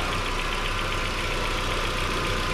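A Proton Saga FLX car engine idles steadily up close, a continuous mechanical hum with a faint rapid ticking from the canister purge valve running through it.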